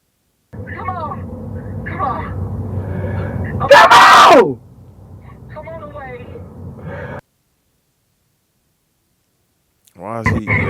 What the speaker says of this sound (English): the screaming, it's gotta stop, bro